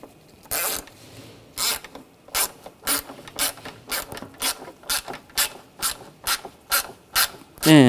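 A ratchet snugs down screws on the AC condenser and receiver drier assembly of a 2007-2013 BMW X5 3.0L L6, giving about a dozen crisp, close clicking bursts in a steady, evenly spaced rhythm with no voices.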